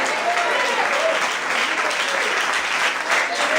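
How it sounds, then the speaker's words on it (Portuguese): A church congregation claps steadily and densely through an evening Portuguese-language worship service, the applause loud and continuous with a few voices mixed in. "Se você quer dar glória e aplauda ao Senhor, aleluia!"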